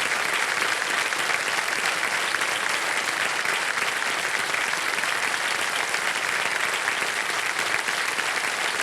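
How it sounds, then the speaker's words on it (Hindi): A studio audience on a TV quiz show applauds the children with steady, dense clapping that holds at an even level throughout, with no voice on top. "तालियां बज जाएं सब बच्चों के लिए।"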